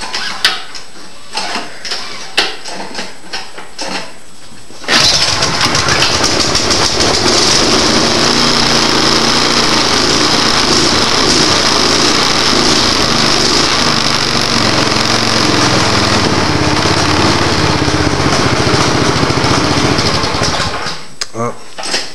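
A Troy-Bilt snow blower's small engine sputters with a few pulls and short bursts, then catches and runs at a loud, steady, close drone before dying away near the end, with a person talking early on.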